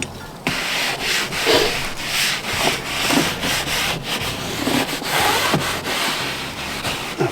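A clay scrubber mitt from Detailers United rubs over car paintwork in a loud, continuous back-and-forth scrubbing, with steady strokes close up and no talking.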